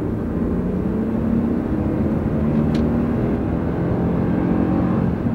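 A truck engine accelerates in manually selected third gear, a steady loud low drone and whir from inside the cab, holding constant throughout with no talking.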